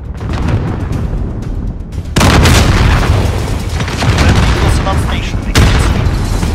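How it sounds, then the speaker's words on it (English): A Semtex grenade exploding in Modern Warfare multiplayer, a sudden loud boom followed by sustained rumbling blasts and gunfire, with a voice talking over the noise. "Out of everything that just exploded in front of me, a Simtex kills me."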